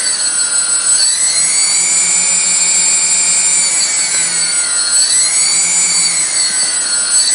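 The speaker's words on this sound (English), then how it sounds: "we're stuck with motors above idle there, even though I'm sending minimum throttle" A quadcopter drone's motors whine in a loud, steady high-pitched drone, stuck above idle despite minimum throttle, with pitch swelling and sagging twice in slow waves, close and continuous without speech.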